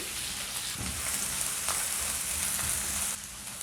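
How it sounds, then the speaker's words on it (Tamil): Finely chopped onion and cumin fry in about six teaspoons of oil in a pan, a steady close sizzle with soft stirring scrapes throughout, dropping slightly quieter near the end. "வெங்காயம் வந்து நல்லா ஒரு 2-3 மினிட்ஸ் நல்லா வதக்கிடுங்கோ"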